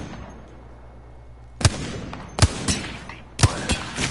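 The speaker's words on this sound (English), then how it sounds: "Getting shot at." Gunshots from the video game Apex Legends: four or five sharp, loud cracks in uneven pairs after a quiet opening, set against a low steady game ambience.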